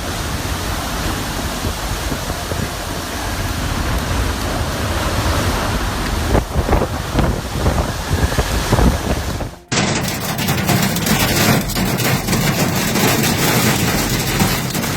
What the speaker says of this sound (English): On the streets of Osaka, a pizza delivery man fights strong gusts.